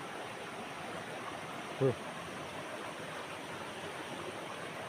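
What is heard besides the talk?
swift river flowing over rocks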